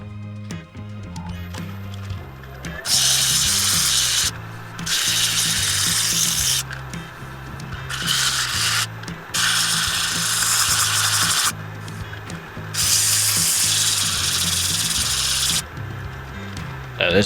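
A red ironbark bowl spins on a wood lathe while sandpaper is pressed against it, sped up. Bursts of loud hissing abrasion start and stop over a steady low motor hum.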